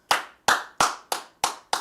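Single pairs of hands clap sharply six times in a steady, evenly spaced rhythm, each crisp close-up smack ringing briefly before silence.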